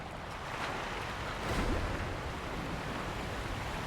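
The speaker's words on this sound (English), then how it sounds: "Also, waterfalls, noisy as always." Waterfall noise in the video game Sekiro, a steady broadband rushing wash of falling water that holds at moderate level throughout, briefly swelling near the middle, with no talk.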